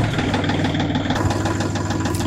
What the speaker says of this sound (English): we're gonna fire the tractor up and lower this a little bit